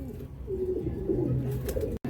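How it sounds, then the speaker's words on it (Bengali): Pigeons of the Chennai breed coo in a home loft in Behala: a soft, low, throaty cooing phrase up close, with a faint rustle and no talking. "এটাও আমার খুব ফেভারিট পায়রা, খুব সুন্দর পায়রা"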